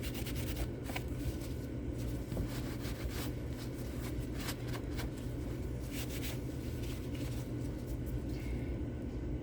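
Rub 'n Buff metallic finish being rubbed by hand onto a resin cast, a steady faint scratchy friction with continuous low rumble underneath, no pauses throughout.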